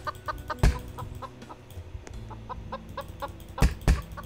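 Chicken clucking in the Roblox game Lumber Tycoon 2, a run of short, fairly close clucks with a few louder sharp notes near the start and toward the end.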